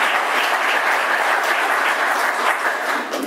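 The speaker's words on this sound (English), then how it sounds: "now's the time to clap." A crowd applauds steadily at the launch of a Dayton Habitat for Humanity campaign, a dense, sustained clapping that holds for about three seconds before easing slightly at the end.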